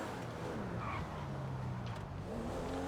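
A convertible coupé sports car in GTA Online, its engine droning and shifting pitch at a steady moderate level, with faint tire noise over a constant background.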